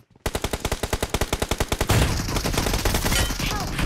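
Rapid automatic gunfire in the battle royale game Free Fire, a fast burst of evenly spaced shots that runs into a dense, continuous roar of overlapping fire and explosions.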